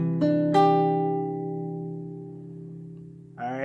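Guitar chord from a song, strummed once and left to ring and slowly fade, clear and close, with a brief extra strum at the end and no speech.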